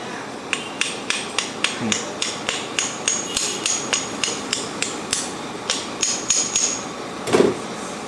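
Sharp hammer blows strike hard metal in a steady series, about two per second, close by, with a few lighter taps and a brief scrape near the end.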